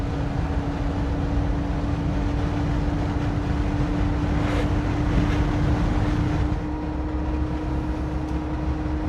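Steady engine drone of a 1971 Porsche 911 E Targa cruising at about 4,100 rpm, a constant loud hum mixed with wind and road noise from inside the moving car, with no talking.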